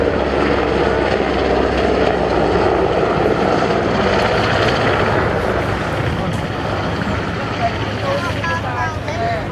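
Military aircraft of 824 Squadron, a submarine-hunting helicopter, flying at the Southport Air Show, giving a loud continuous engine and rotor roar that stays steady throughout.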